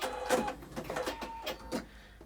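Sewing machine stitching back and forth over the joined ends of a length of elastic, a fairly close, busy run of rapid mechanical stitching bursts and clatter.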